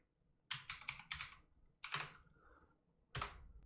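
Several quick bursts of keystrokes on a computer keyboard as a command is entered, a rapid cluster of clicks followed by a pause and a couple of short separate bursts, close and moderately loud with no talking.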